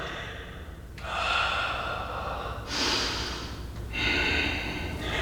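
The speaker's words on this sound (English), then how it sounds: "Don't forget to breathe." Three slow, steady breaths drawn during a yoga flow while holding a crescent lunge, each a long airy rush of inhale or exhale with short pauses between, close and moderately loud over a faint background hum.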